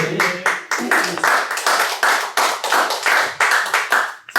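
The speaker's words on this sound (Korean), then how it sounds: "중간중간 박수 줬습니다" Lecture audience at a liberty leadership academy session claps in a rhythmic, roughly even beat of loud, close hand claps, about nine sharp claps in a row, with no speech over them.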